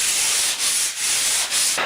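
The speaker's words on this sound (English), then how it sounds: "take the flat sanding block and roll this shoulder over just ever so slightly to get the chatter marks from the scraper out of it" Hand sanding of a pine baseboard with a flat sanding block, steady close raspy strokes with brief pauses between passes, loud and alone.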